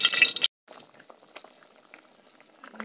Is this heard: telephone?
no